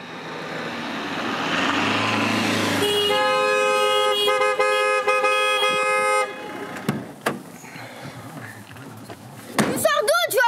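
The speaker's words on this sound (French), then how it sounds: "Ton klaxon il est joli mais le mien il est beaucoup plus beau." Car horn honking in a street traffic scene, a loud sustained blare lasting a few seconds, followed by door slams and shorter clattering sounds as people talk nearby.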